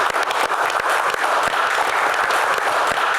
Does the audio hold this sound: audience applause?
yes